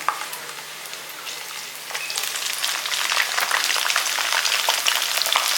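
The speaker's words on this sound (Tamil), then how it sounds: "எண்ணெயில் வந்து கத்திரிக்காய் நல்லா வதங்கணும்" Steady, dense sizzling of eggplant frying in hot oil, crackling continuously and growing slightly louder, with no voices.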